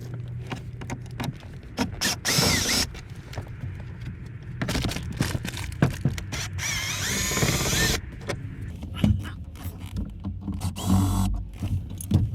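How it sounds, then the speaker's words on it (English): A power drill backs screws out of the dash of a 1982–92 third-generation Camaro, giving repeated close whirring bursts between short pauses, along with light clatter and handling noise and no voices. "pop these screws out, and get this dash out"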